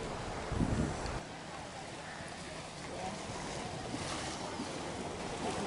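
Ocean waves wash onto a small Miami beach in a soft, continuous surf hiss, mixed with wind buffeting the microphone and a brief low thump near the start.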